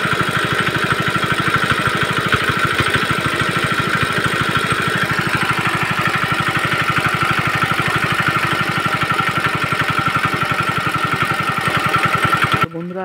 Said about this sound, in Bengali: তো দেখতে পাচ্ছেন ইঞ্জিনটা এখন চলছে, তো কোনো সমস্যা নেই ইঞ্জিনের।